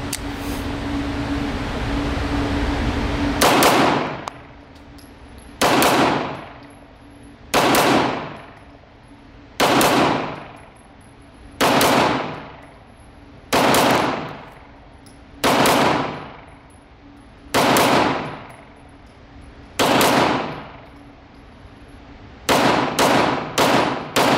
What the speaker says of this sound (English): I'm getting one sight picture and I'm pulling the trigger twice